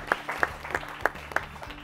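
Sparse clapping for a quiz team from a studio audience, a handful of distinct claps at a steady rhythm, moderately faint, over a low background hum.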